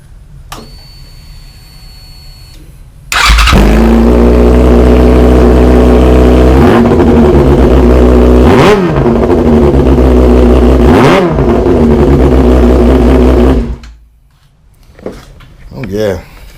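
Yamaha R6 sport motorcycle fitted with a Voodoo Shorty slip-on exhaust, starting up and idling loudly, then revved hard three times in sharp sweeping bursts before cutting off, followed by quiet rustling and a brief voice.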